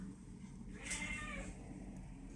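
A cat being fed corn, peas and a meat stick lets out a single faint meow over a quiet indoor background.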